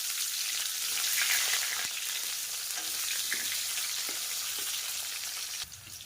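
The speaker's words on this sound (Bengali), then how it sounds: "আলুগুলোকেও একটু ভাজা করে নেব।" Potato pieces frying in hot oil in a wok give a steady, close sizzle throughout, with a few faint clicks of stirring and no voices.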